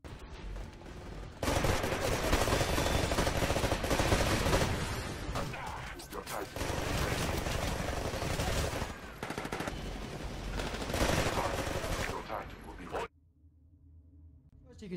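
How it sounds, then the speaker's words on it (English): Carbine fire in the video game Titanfall, fitted with an HCOG scope, cracks out in rapid tapped bursts at close range, loud and dense for most of the stretch before cutting off abruptly near the end. "So let's watch the carbine in action."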